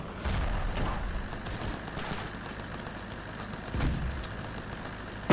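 A tank drives across a battlefield in the video game Ravenfield, with a loud, steady engine rumble, scattered gunfire bursts and heavy impact thuds on top of it.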